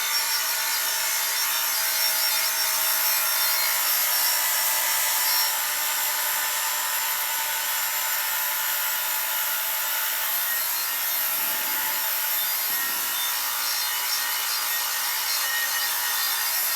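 A scythe blade is sharpened along its edge with quick passes, making a steady, continuous rasping, scraping sound up close with no pauses or talk.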